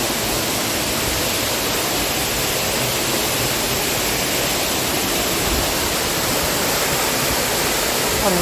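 The Sawan Noi waterfall in Mae Sariang, Thailand, pours in a steady, dense roar, constant and fairly loud throughout with no voices.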